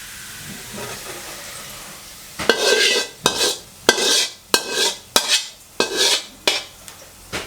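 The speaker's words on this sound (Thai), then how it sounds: "เดี๋ยวผมจะเทใส่ตะแกรงเพื่อกรองน้ำมันนะครับ" Freshly fried pork cracklings for a chili paste tip into a metal strainer to drain the oil, giving a run of about eight loud, rhythmic clattering, rattling bursts after a quiet first couple of seconds.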